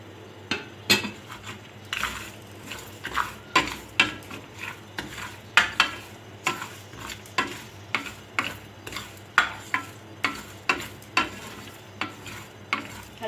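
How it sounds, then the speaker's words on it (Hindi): Dry spices roast in a frying pan, a steady run of sharp scraping and stirring clicks from a utensil against the pan, repeating in a regular rhythm over a quiet background with no talking. "एक फ्राई पैन में जो हमने ड्राई मसाले लिए हैं इनको हम ड्राई रोस्ट कर लेंगे।"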